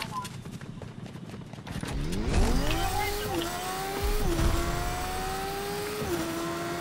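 Two-person motorbike in a video game revving up, its engine pitch climbing and stepping through gear changes with sliding tonal sweeps, loud and continuous after a brief quieter start.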